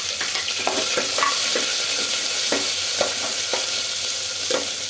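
Whole garam masala spices, including cloves, cinnamon, cardamom and bay leaf, sizzle steadily in hot fat in a clay pot. The frying is close and loud, with light stirring scrapes at irregular intervals.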